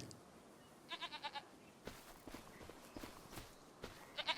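Goats on a farm in Farming Simulator 25 bleat in a short run of four or five quick calls, then again briefly near the end, over soft footsteps and faint ambient clatter.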